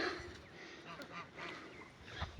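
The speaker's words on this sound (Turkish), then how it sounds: "Arkadaşlar kaz." A goose calls in a garden, a few faint, scattered honks rising out of steady outdoor background noise, fairly distant and quiet.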